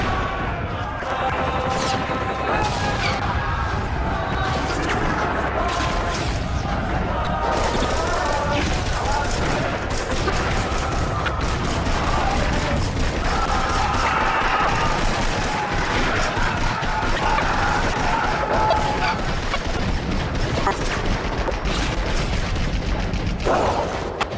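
Cartoon battle scene with dense, continuous machine gun fire and crashing impacts, loud and chaotic throughout, with voices shouting amid the barrage.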